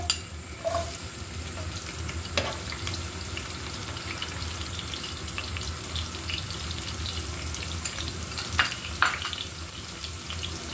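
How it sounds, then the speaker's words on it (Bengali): Garlic frying in oil in a pan, with a steady close sizzle and bubbling throughout, broken by a few sharp clicks and scrapes of stirring, moderately loud and without talking. "কিছুটা রসুন ভেজে নিব"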